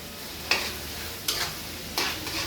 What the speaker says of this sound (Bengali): এটা একদম বাইরে থেকে ভাজা ভাজা করতে হবে